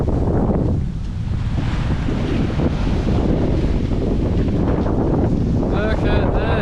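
A sailboat crossing the Atlantic Ocean in strong wind, with loud, constant wind roar buffeting the microphone over rushing waves and spray. Voices can be heard faintly under the noise near the end.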